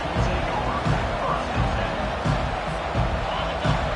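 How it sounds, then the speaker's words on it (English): Stadium crowd noise at an American football playoff game roars steadily throughout, a dense rumble of many voices with occasional thumps and swells. "This crowd bringing the energy and noise early."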